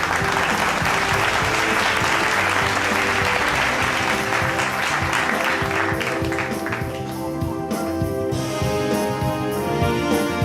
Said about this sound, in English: A very warm round of applause for these very special girls,